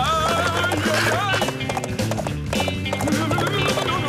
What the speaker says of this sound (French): Les chevaux sont interdits dans ma ville.